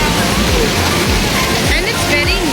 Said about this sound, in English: Because it's flowing water.